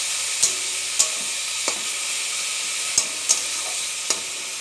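Greens being tossed and stirred in a kadai, with several sharp metallic scrapes of a spoon against the pan at irregular intervals over a soft, steady sizzle.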